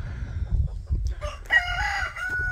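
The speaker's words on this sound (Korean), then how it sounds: "아주 닭들이 울고" Roosters crow nearby on a black goat farm, a drawn-out rising call over low background rumble, with faint clucking from other birds.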